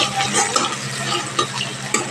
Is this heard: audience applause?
no